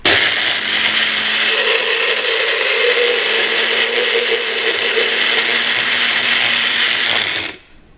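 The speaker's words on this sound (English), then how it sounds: "This one is the best for grinding the spices and chilies into powder." An electric spice grinder whirs loudly and steadily, pulverizing dried chilies into chili powder, running continuously for about seven seconds before cutting off abruptly.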